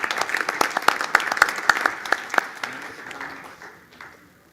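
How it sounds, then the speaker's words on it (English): Members at an annual convention give a round of applause, crisp individual claps at first that thin out and fade away over a few seconds. "I request a big round of applause from our members to Leon"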